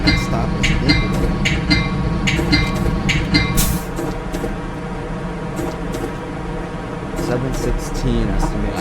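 A Metra commuter train in Train Simulator Classic runs on the Aurora to Chicago line with a steady rumbling drone and repeated sharp clicks and knocks from the cab.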